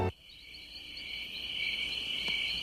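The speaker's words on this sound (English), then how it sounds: "Hear that? Insects are everywhere." Crickets and other insects chirp in a steady, high, continuous trill that swells slightly louder over a couple of seconds, with no voices.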